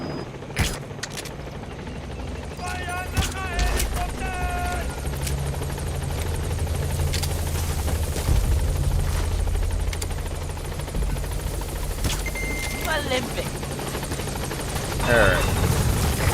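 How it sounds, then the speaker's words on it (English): In the Metal Gear video game, a helicopter approaches a landing zone with a continuous low rotor thrum under scattered bursts of gunfire and mechanical clatter, while a voice speaks briefly. "This is B-Quad. Arriving shortly at LZ."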